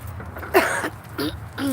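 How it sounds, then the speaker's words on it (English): A brief throat clearing, a rough guttural burst followed by a couple of softer vocal rasps, close and fairly loud in a quiet room. "Let me clear my throat."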